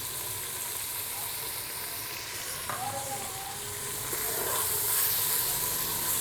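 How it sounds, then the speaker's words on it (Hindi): Onion, garlic and mutton fry in a pan with a steady, soft sizzle and hiss, punctuated by a few brief scrapes of stirring, growing slightly louder toward the end, with no voices. "और मैं इसको भून रही हूँ"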